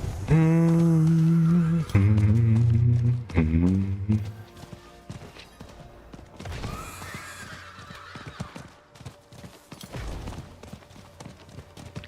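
A mount in Diablo 4 sounds off with loud, tonal honking bursts at the start, followed by a quieter, busy stretch of footfalls and game effects.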